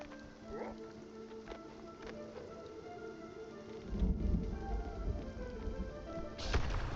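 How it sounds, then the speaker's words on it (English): A lightning storm at sea in Spiritfarer, with rain pattering under a soft musical bed and deep thunder rumbles rolling in near the middle and again at the end. "Lightning storm."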